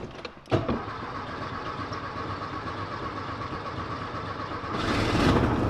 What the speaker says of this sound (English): First try on the starter for a bit, but it kicks over.